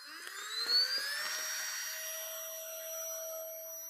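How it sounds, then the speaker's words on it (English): A vacuum pulls the air out of a travel storage bag: a whining, rising tone that climbs in pitch and then holds a steady high drone, with no talk over it. "Then we'll take our vacuum that comes with the package of bags, stick it on there, and watch it gets all the air gets sucked out."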